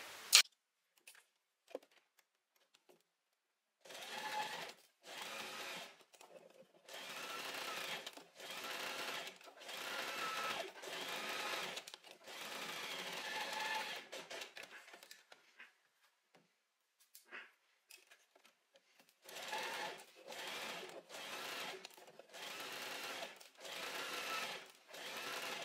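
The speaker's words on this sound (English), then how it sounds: "now we're going to sew from here to there with a 1 cm seam allowance" Sewing machine stitching a 1 cm seam on a mini skirt, steady runs of rapid mechanical whirring that stop and start several times, close up and fairly quiet, with no voices.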